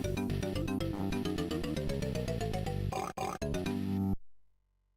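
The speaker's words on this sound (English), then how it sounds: "Oink, oink." Arcade video game pig oinking effect, a rapid string of bright, tonal, squealing oink-like blips climbing in pitch, loud and cartoonish, ending with a short burst and cut to silence.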